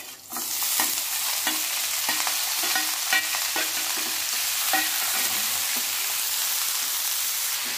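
Spinach sizzles in a hot pan with fried chilies while a utensil stirs and scrapes in a steady rhythm of clacks over the constant frying hiss.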